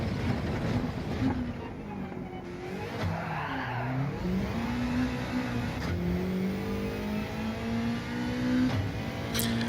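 Subaru WRX Group 3 race car in Gran Turismo 7 at Red Bull Ring, its engine revving steadily with rising and falling pitch through gear changes and brief tyre skid, loud and continuous throughout.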